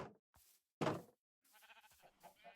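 Sheep bleating in the video game Minecraft: a few short, wavering bleats, quiet and close, separated by brief silences, with one louder bleat near the start.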